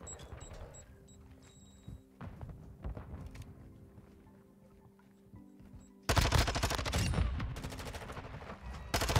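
Video game gunfire in a ranked match: sparse single shots and short bursts early on, then a dense, loud stretch of rapid automatic fire in the final few seconds.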